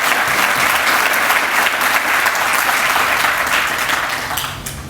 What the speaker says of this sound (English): let's give a round of applause for John and this great vision